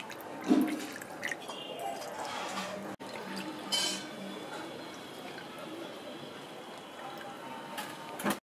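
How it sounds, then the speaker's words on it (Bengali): Water poured into a pan of egg-stuffed capsicum curry, a soft continuous trickling and splashing with a few clinks, fairly quiet and close. "এরপরে আমি দিয়ে দেবো জল"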